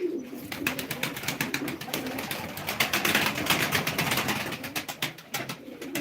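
Pigeons in a loft at a live pigeon auction coo steadily and close by, with wing flutters and light clatter in a busy, continuous chorus.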